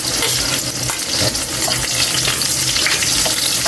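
Squid with garlic and onion sautéing in a pan for adobong pusit, giving a loud continuous close sizzle with occasional stirring scrapes and no talk.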